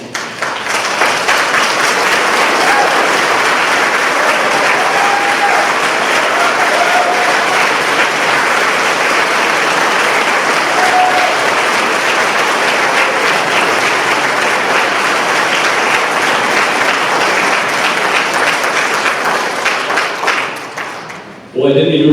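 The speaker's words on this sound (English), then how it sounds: "give a round of applause to the candidates" Sustained, loud applause from an audience at a mayoral candidate forum in Fountain Hills, Arizona, lasting about twenty seconds before fading, with some voices faintly mixed in.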